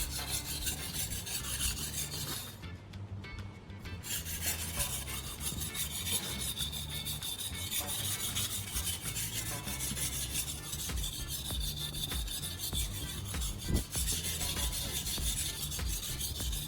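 A knife blade is stroked back and forth on a whetstone to raise a burr, a close, continuous scraping rasp with steady rhythmic strokes and a short pause partway, no talk.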